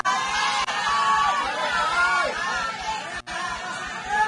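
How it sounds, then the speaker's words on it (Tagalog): A large crowd at a packed political gathering roars and chatters continuously, a dense wall of voices with shouts rising above the babble, loud and close, dipping briefly twice. "Grabe yung sigaw ng mga tao dyan."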